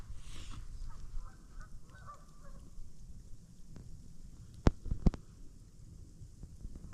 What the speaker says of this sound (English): There's some ducks down there too.